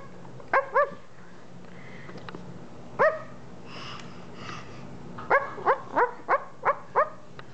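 A toy dog barks in short electronic yaps: a few scattered single barks, then a quick run of five or six in a row.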